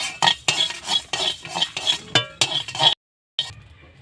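Bay leaf and whole coriander seeds dry-roasting in a pan, stirred with a metal spoon in a quick repeated rhythm of scraping clinks, close and loud, with a short silent gap near the end.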